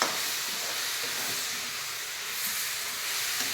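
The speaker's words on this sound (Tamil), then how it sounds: "கரம் மசாலா, மிளகாய் பொடி, மல்லிப்பொடி, மஞ்சப்பொடி, இது எல்லாத்தையும் சேர்த்து நல்லா அதையும் வதக்கி விடணும்" Ground garam masala, chili powder, coriander powder and turmeric sautéing in hot oil for a cauliflower gravy, a steady, close, even hiss of frying that stays level throughout, with no talking.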